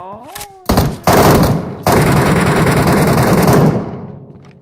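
Gunfire in the video game Metro Royale: loud, close automatic bursts, two short ones followed by a long sustained volley that fades out at the end.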